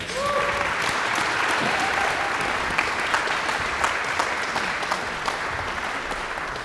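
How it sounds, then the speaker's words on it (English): Audience applause at a university faculty excellence awards ceremony, a steady dense clapping from a large crowd that holds evenly throughout, with a few brief voices rising faintly above it. "Another round of applause."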